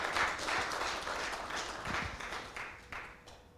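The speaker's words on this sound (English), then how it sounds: "Big round of applause to her." An audience at a devotional class claps for a singer after her Hanuman Chalisa. The applause is fairly soft, steady and continuous, with many hands blending into a wash of clapping that gradually thins out.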